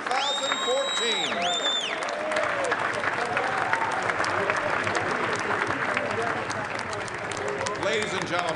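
Banquet audience at a sports hall of fame induction dinner giving a sustained round of applause, steady dense clapping in a large room, with some whistles and shouts early on.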